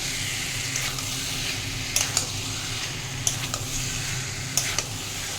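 Pointed gourd and potato fry in oily masala in a pan, giving a steady low sizzle with a few sharp scrapes and clicks of stirring scattered through, and no talking.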